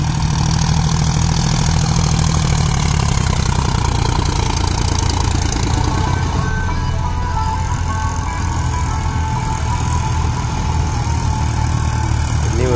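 A New Holland 3630 tractor idles loudly close by at a pond excavation, its low rumble droning continuously with no talk, a brief higher tone fading early on.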